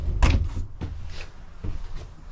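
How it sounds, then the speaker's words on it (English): A sliding door in a 2023 Lance 2375 travel trailer is rolled along its track, giving a series of close thuds and rumbling scrapes across about two seconds, with no talk over it. "just slide that door closed"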